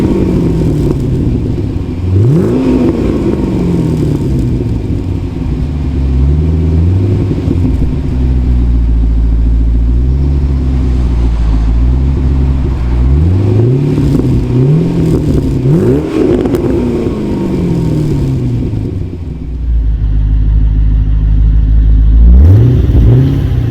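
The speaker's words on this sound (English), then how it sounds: "Let's get some bits of the exhaust sound and everything else now then." A 2006 Pontiac GTO with its 6-litre V8 revs repeatedly, the exhaust climbing in pitch through several sweeping rises and dropping back to a deep idle rumble, loud and close, with a final sharp rev at the end.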